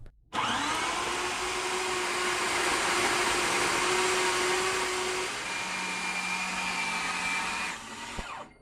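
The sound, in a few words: blender blending meatball mixture until smooth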